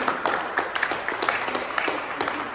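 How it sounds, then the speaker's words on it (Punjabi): A church congregation claps loudly together in praise of the Holy Spirit, a dense, steady patter of many hands that fills the room with no voices rising above it. "ਇੱਕ ਵਾਰ ਪਵਿੱਤਰ ਆਤਮਾ ਦੇ ਨਾਂ 'ਚ ਜ਼ੋਰਦਾਰ ਤਾੜੀਆਂ"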